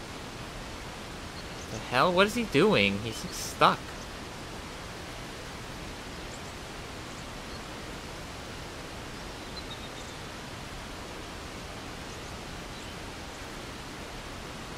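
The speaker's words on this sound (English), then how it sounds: "It doesn't let you swim past the waterfall." Constant broadband roar of a waterfall in the game ICO runs unbroken from start to finish, with a short burst of talking near the beginning over the rushing water.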